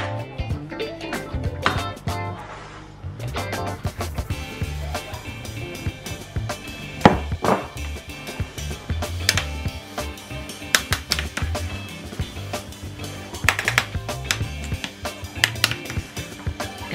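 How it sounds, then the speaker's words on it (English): Grated cheese stirred into mashed potato for a cheese pie, heard as repeated thick thuds and scrapes of a utensil against the bowl in an uneven rhythm, close and alone without talk. "Just give it a really good stir."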